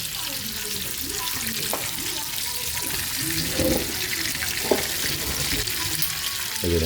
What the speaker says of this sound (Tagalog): Magigisa na tayo ng sayote.